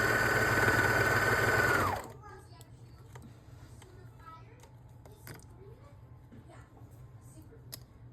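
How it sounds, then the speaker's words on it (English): A serger overlocker stitches a fabric pocket seam on lounge pants, a loud steady motor whir for about two seconds that stops abruptly, followed by quiet handling clicks and faint rustles. "Make sure you have the top of your pocket out where it's going to get hit by your serger blade."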